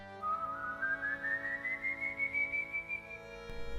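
Slow rising whistled note representing El Silbon of legend, a single long eerie tone gliding upward over a faint background drone, close and clear with no talking.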